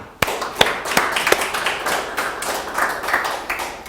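A church congregation claps during a Wednesday worship service, starting with a few sharp, separate claps that quickly fill out into lively, uneven applause close by.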